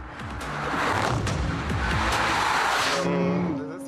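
Porsche 911 race car, driven by Jörg Bergmeister, on a racetrack: a loud, close engine roar sweeps past with squealing, skidding tyres, then drops to a lower whine as it pulls away.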